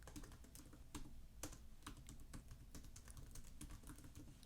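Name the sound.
typing a sentence on a computer keyboard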